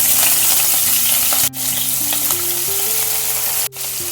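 Chopped garlic, chilli and spring onion frying in a pan for chilli paneer make a loud, continuous sizzle with stirring, over a low steady musical drone and two brief dropouts.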